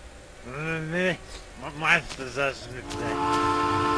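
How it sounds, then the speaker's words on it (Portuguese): A train in the My Summer Car video game sounds a steady, sustained whistle or horn tone after a stretch of talking, holding level to the end. "Agora passou o trem."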